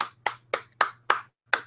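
A single person's hand claps, six sharp slaps spaced unevenly over under two seconds with brief gaps between them, fairly close and clear against a faint low hum.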